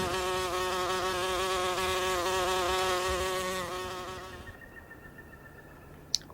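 Insects buzz loudly and steadily up close for several seconds, a sustained droning hum that fades away toward the end, leaving quiet background and a single faint click.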